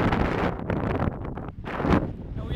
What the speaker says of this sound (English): we have wind force probably 6 or 7 against us